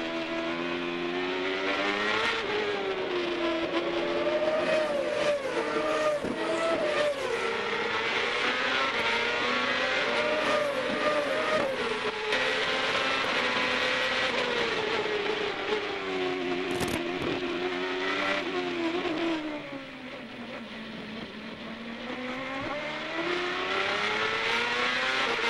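CART open-wheel race cars howl past on the Monterrey circuit during the 2002 race, a loud, continuous high-pitched engine whine with pitch sweeping up and down through gear changes, several cars overlapping, easing slightly near the end.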